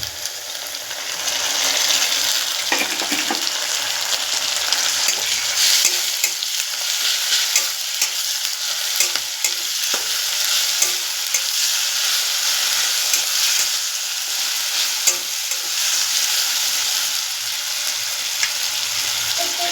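Garlic paste and lightly browned onions frying in a pan for a prawn malai curry, with a steady close sizzle and the scrape of stirring running through the whole stretch, no voices.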